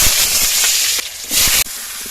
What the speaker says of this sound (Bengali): কড়া গরম হয়ে গেছে, দিয়ে দেবো সর্ষের তেল, অল্প চিনি দিয়ে দেবো, মূলো আর আলু দিয়ে দেবো।